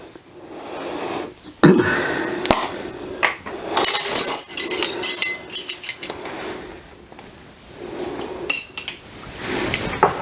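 Spoon clinking and scraping in a container while stirring yeast nutrient into room-temperature orange juice for home-brewed lilac country wine, several close metallic clinks and rattles in bursts.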